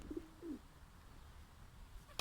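Smoky tumbler pigeons coo softly in two short low calls near the start, then the loft goes quiet apart from a faint background hum and a brief sharp click at the end.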